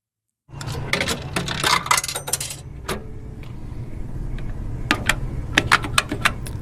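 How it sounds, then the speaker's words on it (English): Coins drop into a payphone in a movie sound effect, a quick run of sharp metallic clinks and rattles followed by a pause and another burst of clinks, heard alone and close. "It is a payphone. Yeah, I thought that was fun. Like, we put the coin in."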